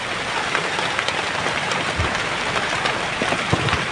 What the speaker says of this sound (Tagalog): Sobrang lakas ng ulan niya.